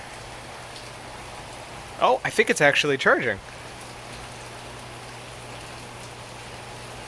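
Steady rain falls outdoors beside a boat being worked on, a constant broadband wash throughout, while a person talks briefly in the middle.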